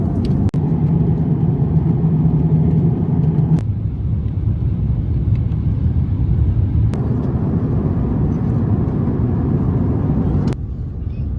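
Steady, loud broadband rumble of a China Southern Airbus A350 cabin during descent, a constant engine and airflow drone with a few brief clicks and small shifts in tone throughout, no voices.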